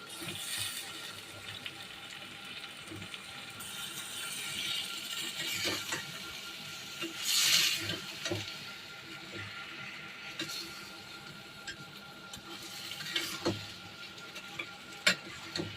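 Dried fish with eggplant and potato stirred in a pan, giving soft scraping and faint sizzling with a few louder clatters, fairly quiet throughout.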